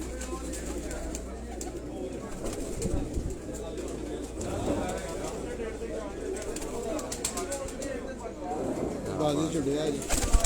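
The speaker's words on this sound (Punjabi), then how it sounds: "ਇਹ ਸ਼ਾਹਜ਼ੋਰ ਕਬੂਤਰ ਹੈ ਜੀ" Shahzor pigeons kept at a rooftop loft coo and call throughout, layered over steady background noise and occasional nearby voices.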